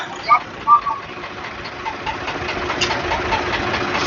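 A tractor engine idling during a farmers' tractor march on a national highway, a rough steady rumble with a couple of brief knocks near the start and people talking faintly around it.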